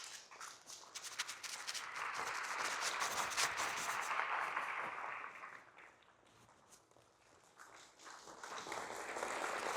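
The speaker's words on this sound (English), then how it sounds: "When my hands cross, clap." Keynote audience at a fall event clapping together in time with a presenter's hand signals, a dense sustained wash of many hands that swells and fades as the pace changes, with no talking over it.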